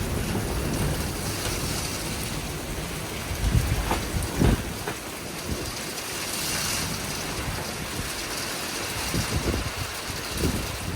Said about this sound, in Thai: ให้เพื่อนๆได้ยินเสียงลมข้างนอก